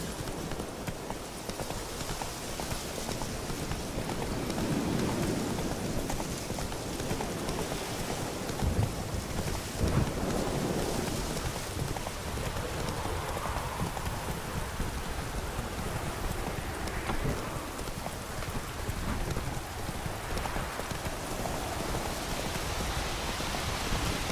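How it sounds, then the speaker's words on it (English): Steady rain and a low rumble of thunder sound through the game world of The Witcher 3, with horse hooves clip-clopping along underneath, with no speech over the wet, continuous background. "Lightning strike."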